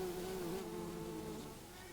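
Bumblebees at their nest: a steady, close, droning buzz with a slight wavering pitch, continuous and alone for the whole moment.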